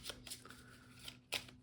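Several quick riffling card shuffles in bursts, close and crisp, with a faint hum underneath and no talking.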